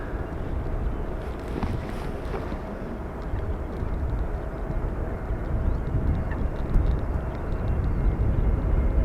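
A fixed-wing airliner arriving on runway 18R at Amsterdam Schiphol in rainy, windy weather, a steady broad jet roar holding throughout with rumbling wind buffeting the microphone and no talk.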